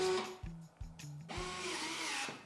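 A Klauke EKSD50ML battery-powered tool cutting and stripping electrical cable, a short motor whir with a few clicks and mechanical clunks, then a steady close hum.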